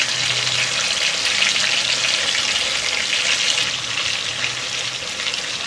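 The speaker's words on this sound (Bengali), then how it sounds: "আরও এক পিঠ আমি ভেজে নেব।" Kalbasu fish frying in hot oil on its second side, a steady, dense sizzle that holds at an even, close level throughout with no talking.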